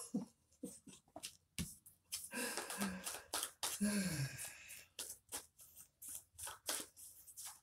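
A deck of tarot cards being shuffled by hand in quick riffling bursts, with soft slaps and flutters as cards slip and fall, close and quiet, while a voice speaks faintly now and then.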